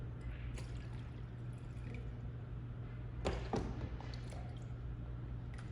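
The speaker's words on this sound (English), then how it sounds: "I'm going to scoop water and pour it into the other bins" Water is scooped with cups and poured into bins during a hands-on learning activity, heard as soft trickles and drips over a low steady hum, with a sharper splashing pour near the middle.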